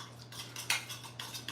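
Hot honey glaze for a holiday ham being stirred with metal cutlery in a small dish, a quick series of light clinks and scrapes, close and quiet, with no talk.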